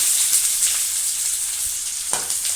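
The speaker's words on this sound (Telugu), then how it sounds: "ఓన్లీ ఆనియన్ వేస్తున్నాను ఆయిల్ ఆయిల్ బాగా తాగింది" Onion frying in hot oil for a ridge gourd curry, a loud close sizzle with a couple of sharper bursts as the pan is stirred, no voices heard.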